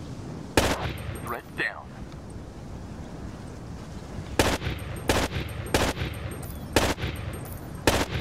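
Bursts of automatic gunfire from the video game Rainbow Six: Raven Shield come as a short volley near the start and then a rapid series of sharp cracks in the second half, over faint ambient hiss, with a brief spoken game line.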